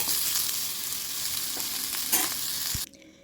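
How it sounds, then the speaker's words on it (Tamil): Bitter gourd pieces frying for a kuzhambu hiss loudly and steadily while a spoon stirs and scrapes the pan, the sizzle dropping away abruptly just before the end. "இப்போ நம்மளோட காய் வந்து நல்லா வதங்கிருச்சு பாருங்கள்"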